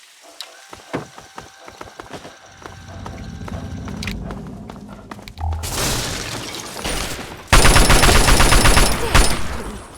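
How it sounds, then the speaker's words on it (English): Rapid bursts of gunfire in the Fallout 3 Point Lookout video game, starting as scattered sharp shots and building into loud, dense sustained firing with booming impacts toward the end. "Don't stop shooting."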